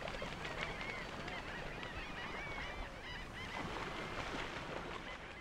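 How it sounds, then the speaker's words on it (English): Great flocks of aquatic birds calling at the edge of Cuban mangrove forests at twilight, a dense, continuous chorus of overlapping honks and squawks, faint and distant. "At twilight, great flocks of birds disturb the reigning peace at the edge of the mangrove"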